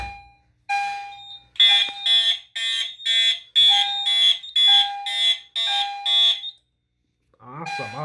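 A fire alarm system blares in rapid repeating bursts of piercing electronic tone during a system test, loud and close, cutting off briefly before another horn starts.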